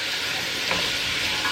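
Onions being stirred with tongs sizzle loudly and evenly in a hot pan while cooking low and slow for barbacoa, a steady frying hiss throughout with faint scraping.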